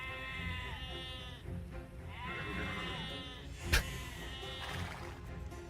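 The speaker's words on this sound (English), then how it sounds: "There's so many stupid sheep." Several sheep bleat in overlapping wavering calls over Age of Empires II game ambience, with a sharp click near the end.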